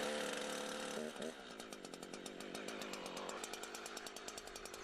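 A chainsaw cuts into a tree trunk, its engine holding a loud, steady high-pitched whine that drops slightly in pitch as the bar bites into the wood, with rapid rhythmic pulsing throughout.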